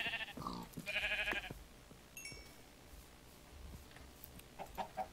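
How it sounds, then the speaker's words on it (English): Sheep being killed in the Minecraft mod Better Than Wolves, with game sounds of bleating and bursts of hits and clucking, mostly quiet between the brief animal calls. "Kill another sheep so that we have some more wool."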